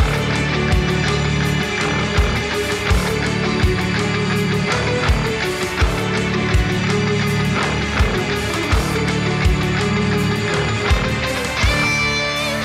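A dense, driving rock riff in the Lydian mode on guitar with steady drums and bass, played loudly and continuously without vocals.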